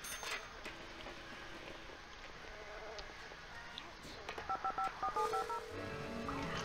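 A phone ringing in The Sims on PlayStation 2: a series of short, evenly spaced electronic ring tones toward the end, over busy game sound and background chatter.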